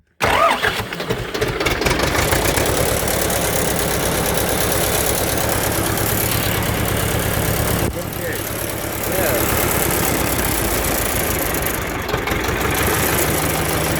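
A warmed-up Ursus tractor engine starts and runs loud and close, a rough diesel clatter that swells as the throttle is opened, dips briefly near the middle, then resumes, with people talking over it.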